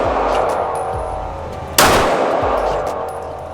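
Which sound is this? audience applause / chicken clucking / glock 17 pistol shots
glock 17 pistol shots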